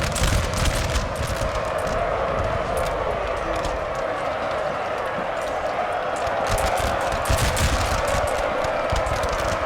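Massed musket volleys crackle continuously in a Napoleonic-era battle game, Napoleon: Total War, with dense overlapping shots and battlefield din rolling on without pause, loud throughout.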